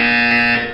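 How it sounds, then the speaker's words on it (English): A loud, harsh electronic buzzer from the video game Portal 2 sounds once, a short steady tone that fades out at the end. "You will hear a buzzer."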